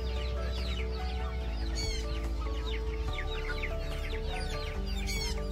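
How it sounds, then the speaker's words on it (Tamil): Chickens clucking steadily at a busy Friday market in Pallavaram, Chennai, where young birds are sold, with several hens calling close by over a constant crowd murmur and occasional rooster-like calls. "நிறைய சின்ன கோழிகள் வாங்கி வீட்டில் வளர்க்குறதுக்கான நிறைய கோழிகளுமே அங்கே விற்க கிடைக்கும்"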